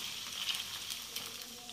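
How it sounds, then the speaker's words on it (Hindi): Manchurian balls frying in hot oil, a steady soft sizzle with small crackles and pops, fairly quiet and close, with no one speaking. "इसे उसे धीरे धीरे धीरे धीरे इसे पलटूंगी और फ्राई करूंगी।"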